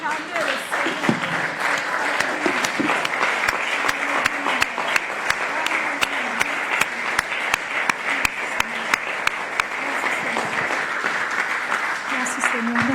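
A church congregation applauds with steady, dense clapping for the whole stretch, loud and sustained, with voices and cheering mixed in throughout.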